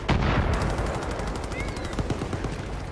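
An enemy shooting in Far Cry 5 keeps up loud, rapid automatic gunfire throughout, with sharp cracking shots piling on one another close by.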